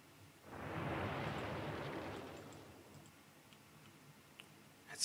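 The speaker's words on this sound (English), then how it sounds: "this explosion cue is playing the audio a little bit late" An explosion sound cue in an Unreal Engine 4 Matinee scene: a single broad, rumbling blast that swells quickly, roars for about two seconds, then decays into a faint crackling tail.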